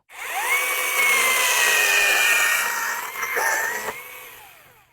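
A Makita 21V cordless one-handed chainsaw whines at high pitch, bogging slightly as it bites into acacia wood, then winds down after a few seconds.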